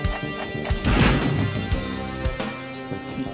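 Crunching explosion hits from a combo in Street Fighter EX Plus Alpha, a cluster of smashing impacts early on followed by sparser thuds and another burst later, loud and close with no voices.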